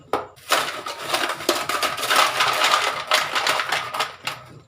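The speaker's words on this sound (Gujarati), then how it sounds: "આપણે બરફના ટુકડા અંદર એડ કરીશું." Hard ice cubes clatter and rattle into a mixer jar in a quick tumbling burst, a dense stream of clinks and knocks lasting several seconds.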